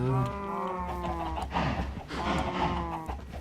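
Minecraft cows moo in long, low drawn-out calls, two or three overlapping, fairly close and steady with a faint ambient background.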